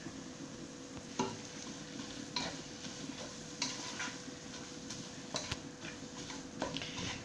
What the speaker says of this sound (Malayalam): എന്നിട്ട് ഇളക്കി കൊടുക്കുക.